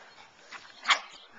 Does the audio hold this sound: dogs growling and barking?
yes